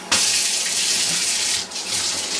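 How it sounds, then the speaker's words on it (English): Tap water gushing steadily from a faucet onto a sheet of watercolour paper, a loud close continuous splashing rush with a brief dip as the flow is interrupted. "run the tap"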